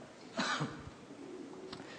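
A single close cough from a man lecturing in Korean, a short rough burst followed by a faint throat sound against a quiet room hiss, with no words spoken.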